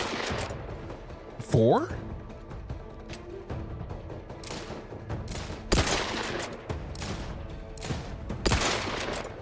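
Gunfire in The Outer Worlds 2, sharp shots recurring across the clip over steady game noise, with someone talking at moderate level throughout.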